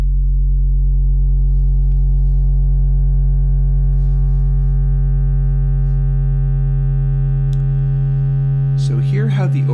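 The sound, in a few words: wavefolder effect doubling frequency, overtone rising in pitch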